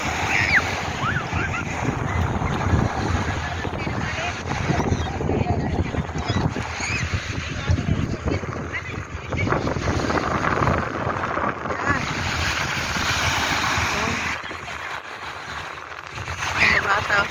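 Surf washing onto the sea shore beside Marina Mall, a steady broadband wash under gusting wind noise on the microphone, with the sound of the sea continuous throughout and no clear speech over it.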